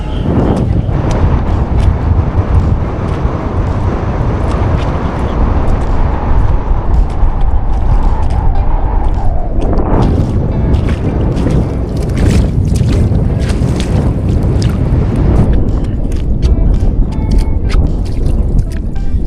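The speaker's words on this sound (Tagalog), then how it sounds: "malakas po ang hangin" Strong seaside wind on a Taiwan shore roars and buffets the microphone without letup, a loud, rough rumble with occasional knocks and rattles mixed in.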